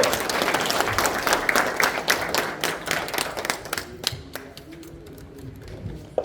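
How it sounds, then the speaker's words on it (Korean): An audience claps inside the Park Chung-hee Presidential Museum, with dense, loud applause at the start that thins into scattered individual claps toward the end. "박수!"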